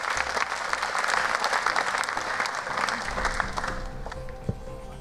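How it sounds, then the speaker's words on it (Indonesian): A live stand-up comedy audience applauds four comedians, with dense, sustained clapping and crowd noise holding steady across the whole stretch before easing slightly near the end. "Kasih tepuk tangan dulu untuk mereka."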